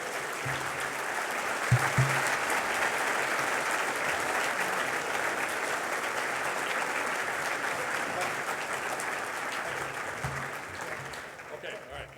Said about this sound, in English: How about joining me in a big round of applause for General Eric Kurilla?